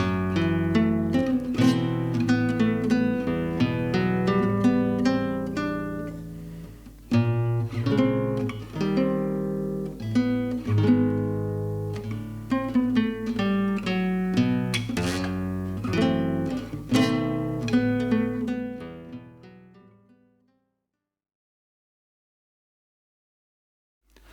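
A solo guitar plays the coda and turnaround of a tune, a flowing run of plucked notes and chords ringing out clearly before the final chord fades into silence.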